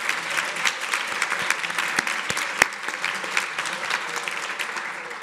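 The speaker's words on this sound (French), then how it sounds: "On les applaudit." Applause from an audience at a university science-talk competition final fills the hall, a dense, steady clapping that holds at a fairly even level throughout.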